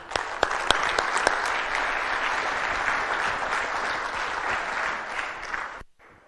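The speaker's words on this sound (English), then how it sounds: "So a round of applause for them." Conference audience applauding at opening remarks, a full, dense wash of clapping with a few sharp nearby claps early, holding steady then cutting off abruptly near the end.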